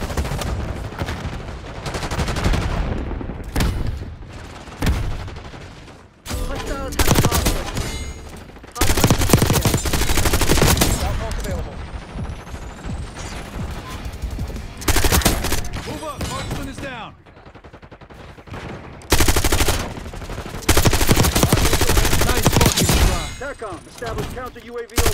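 A light machine gun fires in a video game: long, loud sustained bursts of automatic fire with short pauses between them, mixed with game sounds and a voice talking.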